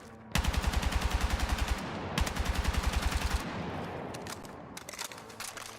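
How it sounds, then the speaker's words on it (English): An L85 rifle firing in Battlefield 6, two long, loud bursts of rapid, evenly spaced automatic shots close up, then scattered shots trailing off, with no talk. "Why is the L85 suddenly got a decent bit more kick to it, huh?"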